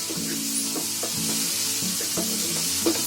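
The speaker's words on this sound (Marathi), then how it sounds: "आता लसूण बघा चांगली मध्ये आहे ना चांगली फ्राय करून घेतली आहे" Garlic frying in a pan for a dhaba-style mushroom dish, a steady close sizzle with regular scrapes and knocks of a spoon stirring it.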